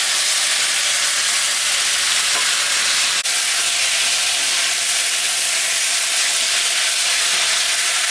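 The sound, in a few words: spices and chillies sizzling in frying pan for rohu fish curry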